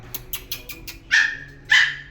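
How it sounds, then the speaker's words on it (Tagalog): A pet dog at a grooming shop in Cambodia barks close by: a run of five quick, light yips followed by two louder, sharper barks. "ayan yung aking aso"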